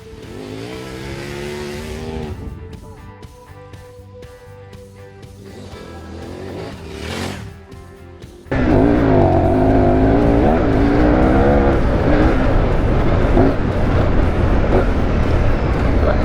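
A KTM 1090 Adventure R engine pulls hard on a fast route, its loud rising roar jumping up sharply partway through and then holding at high revs, close to the rider with wind noise mixed in.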